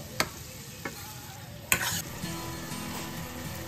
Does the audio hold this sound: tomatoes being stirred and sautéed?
yes